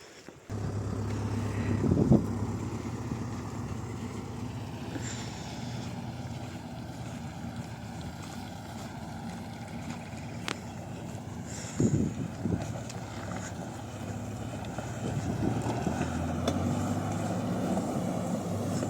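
An overland vehicle in Bolivia fords a river after a steep descent, with water rushing and splashing against it over a low engine rumble, wind buffeting the microphone throughout.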